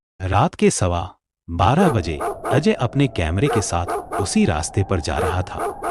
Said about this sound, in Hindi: ठंडी हवा चल रही थी और दूर कहीं कुत्ते भौंक रहे थे